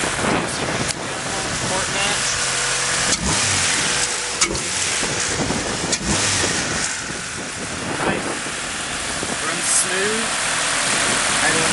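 An Acura Integra engine fitted with an A-series throttle body and port-matched intake revs and idles up close, with sharp throttle blips over a steady engine drone and some wind buffeting.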